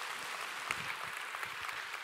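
A church congregation at a Portuguese-language service applauds together, producing dense, steady clapping at a moderate distance with no voices over it.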